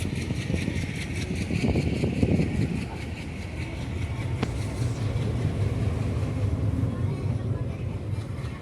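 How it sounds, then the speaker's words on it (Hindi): Deep, continuous rumble of a diesel locomotive engine on the Porbandar Express throbbing steadily, heard up close with a faint voice underneath. "कितनी शानदार है ये डीजल इंजन की आवाज़"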